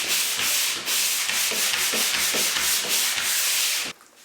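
A painted bedroom wall being sanded gives loud, close, rhythmic rasping strokes in steady back-and-forth bursts, ending abruptly near the close.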